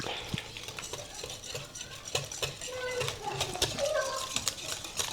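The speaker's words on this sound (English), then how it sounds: "And then I'm gonna mix this before I add my dry ingredient." Banana bread batter of mashed bananas and water stirred in a bowl with a utensil, steady scraping and clinking strokes close by, a faint bit of voice underneath.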